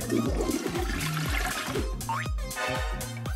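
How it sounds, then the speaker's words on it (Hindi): A toilet flushes with a loud, continuous rush of water that swirls and gurgles throughout, near and alone, with no talk over it. "क्या टॉयलेट में फ्लश करना इतना मुश्किल है?"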